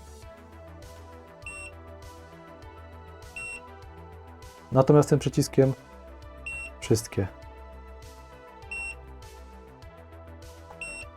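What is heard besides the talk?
oscilloscope beeping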